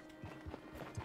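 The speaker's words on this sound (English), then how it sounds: "The horse looks really burnt." Horse hooves clip-clopping in Red Dead Redemption 2, a quiet uneven series of soft thuds at walking pace.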